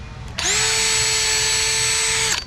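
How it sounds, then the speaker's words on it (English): A power drill bores a pilot hole in wood for a deck lounge chair build, a single steady high whine of about two seconds that starts abruptly and stops cleanly, with no talking. "for here, I'm just going to drill a pilot in this"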